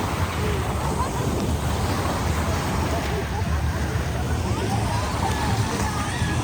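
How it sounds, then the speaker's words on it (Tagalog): Strong ocean waves at a public beach in Subic at low tide make a steady, loud, broadband wash of surf that continues without a break, with wind noise mixed in. "Malakas na yung alon niya and low tide na."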